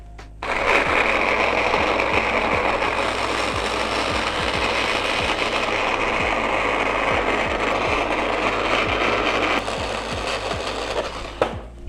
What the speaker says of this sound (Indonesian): Kita akan coba blender supaya halus.